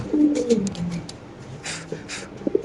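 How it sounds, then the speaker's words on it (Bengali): A fancy exhibition pigeon gives a low, rolling coo up close, followed by scattered clicks and brief rustles. "দেখেন কবুতরের ডাকটা দেখেন"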